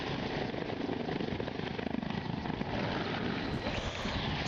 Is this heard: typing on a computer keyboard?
no